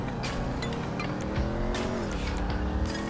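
In GTA V Online, a customized Insurgent Custom armored vehicle's engine runs in a steady loud drone, the pitch of its harmonics rising and dipping slightly, with sharp transient bursts layered over the continuous roar.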